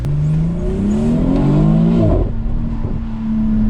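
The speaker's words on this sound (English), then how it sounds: "let's take the X3 M40i for a quick drive and see how it feels" A BMW X3 M40i in Sport Plus mode pulls hard from inside the cabin, its engine note climbing loudly through the revs, dropping briefly at a gear change, then settling into a steady drone.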